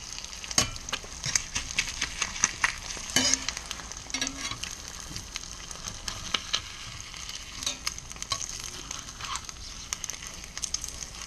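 An egg fries in butter in a stainless steel pan with a soft, steady sizzle and scattered crackling pops, faint and close, with no voices.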